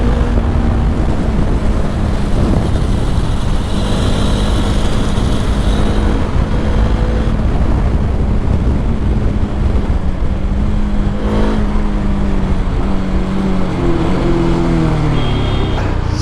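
A Bajaj Dominar 400 motorcycle engine drones steadily while riding, its pitch rising and falling, with heavy wind rushing over the microphone throughout.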